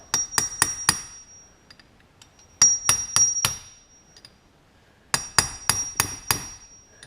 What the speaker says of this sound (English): Let's finish driving this bearing race out.